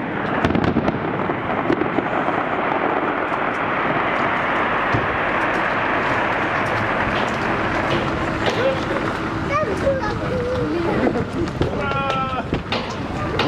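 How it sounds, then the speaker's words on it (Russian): Continuous crackling and booming of distant fireworks at the official Russia Day salute in Moscow, 12 June 2015, with a crowd murmuring and voices underneath, bursts overlapping in a dense rumble. "официальный салют по поводу празднования Дня России"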